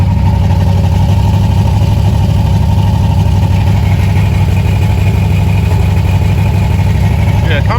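An LS-swapped Pontiac G8 idles loudly and steadily through a recycled V6 exhaust, a constant deep engine drone filling the whole clip up close.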